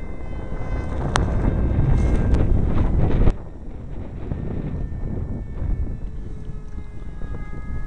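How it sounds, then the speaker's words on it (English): Steady 15 mph outdoor wind buffets the microphone at an RC jet flying field, loud and rumbling for the first three seconds, then dropping to a softer, continuous gusty roar. "the wind is just blowing easy 15-mile-an-hour winds today"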